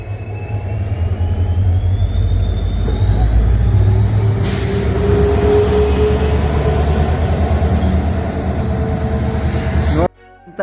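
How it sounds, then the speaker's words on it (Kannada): A train rumbles into a platform inside a tunnel station with a loud hiss of air brakes and thin wheel squeals, heavy and close, before the sound cuts off abruptly. "ಟ್ರೈನ್ ಕೂಡ ಆಲ್ರೆಡಿ ಬಂದ್ರಿ"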